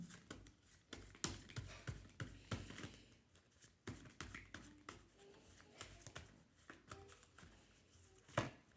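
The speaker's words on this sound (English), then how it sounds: "me shuffle more to see" Tarot cards being shuffled by hand in quick riffles and taps, with a few sharp snaps, close and clear, no talking.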